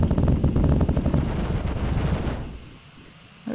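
Rapid automatic gunfire from shooting in the space video game Gimbal, a dense burst of fast repeated shots that runs loud for a couple of seconds and then cuts off, leaving quieter game sounds.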